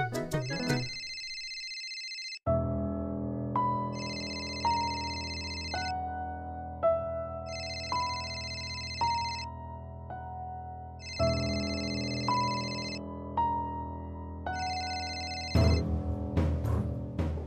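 A melodic phone ringtone sounds in a home, its tonal chime pattern repeating at a steady interval for several cycles. It plays loud and close with no talk over it.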